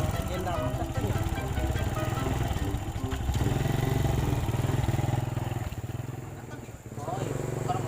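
An Astra motorcycle engine hums and putters steadily at close range, a rhythmic idle-to-cruise drone that swells slightly midway, with voices chatting over it.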